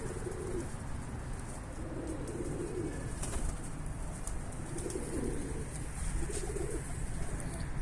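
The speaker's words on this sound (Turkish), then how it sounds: "bu çatıda uçmayan kuş yok" Low, rolling pigeon coos repeat every second or two from a rooftop loft over steady outdoor noise, with occasional faint chirps and rustles.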